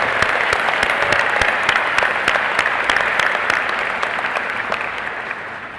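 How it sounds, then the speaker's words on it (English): Big crowd applause for graduates' parents at a university undergraduate commencement ceremony, a dense, steady wash of many hands clapping close and loud, sustained throughout and tapering slightly toward the end. "let's take a moment to give them a big round of applause as well"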